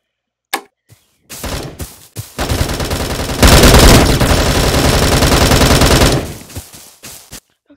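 Video game gunfire from Bullet Force: after a few isolated shots, a long sustained burst of rapid automatic fire rattles loudly and closely for several seconds, then trails off into scattered shots.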